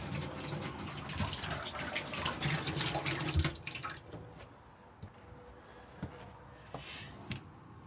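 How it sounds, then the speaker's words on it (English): Water runs from a tap into a caravan sink, fed by an onboard water pump, giving a steady rushing flow for a few seconds before it cuts off, leaving a quiet room with a few faint drips and clicks. "to the sink and just turn the tap on"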